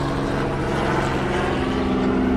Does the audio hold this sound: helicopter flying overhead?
yes